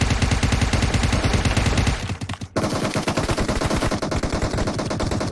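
Rapid automatic gunfire in PUBG Mobile on the Vikendi map, loud and close, rattling in fast bursts with a brief pause midway before resuming, no voices.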